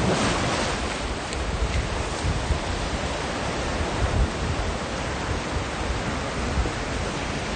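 Surf rolling onto Scarborough Beach near Perth, Australia, a loud continuous wash of breaking waves with heavy wind buffeting the microphone and no talking.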